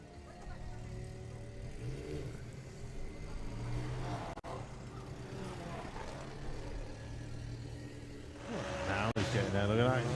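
A drag racing car launching off the line and accelerating hard down a quarter-mile strip at a Bug Jam event, a sustained loud engine roar that builds toward the end, with crowd and commentary voices talking over it.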